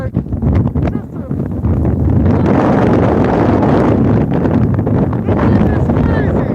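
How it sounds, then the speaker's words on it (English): Strong wind on a fishing trip blasts across the microphone in a loud, steady low roar that builds and holds for several seconds, with someone briefly talking at the start. "It's so windy here."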